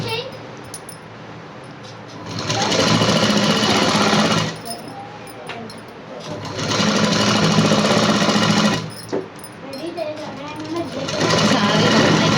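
A sewing machine stitching a coat-model dress runs in steady bursts of rapid mechanical whirring, stopping and starting several times, close and fairly loud, with someone speaking over and between the runs.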